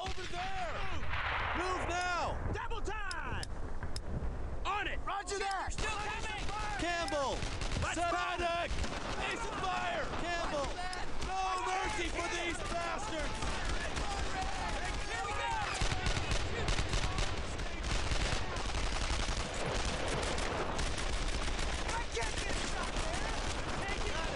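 Sustained gunfire in the World War II shooter Brothers in Arms: Earned in Blood. Loud, dense bursts and rapid machine-gun fire continue almost unbroken, with shouted voices mixed in.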